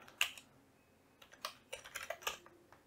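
Fast bursts of typing on a computer keyboard as Arduino encoder code is written, with clustered key clicks and pauses between them, close and fairly quiet, with no voices.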